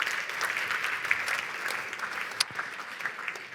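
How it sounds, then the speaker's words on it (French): Audience applause at an automotive and fleet mobility awards gala, a steady moderately loud clapping from a large crowd lasting throughout, with a few sharper individual claps standing out. "On peut les applaudir avant de passer au palmarès"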